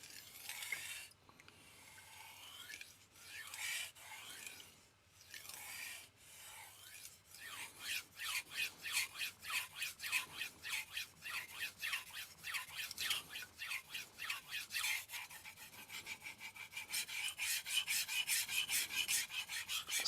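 Knife blade rasping back and forth on a 3K super vitrified diamond sharpening stone, a steady run of close, scratchy strokes that speed into a fast, even rhythm toward the end.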